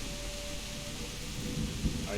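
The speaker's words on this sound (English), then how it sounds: "Ugh, loud storms." Thunderstorm ambience from Kingdom Come Deliverance, with steady rain hissing throughout, low rumbling thunder and a short thump near the end, loud and continuous.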